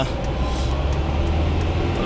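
Road traffic rumbles steadily through a taxi ride in Nagasaki, a continuous low vehicle drone with engine hum and passing cars heard from inside the cab.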